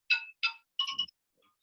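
A phone ringtone plays alone, a clear bright melodic chime of three short bursts in quick succession, then fades out.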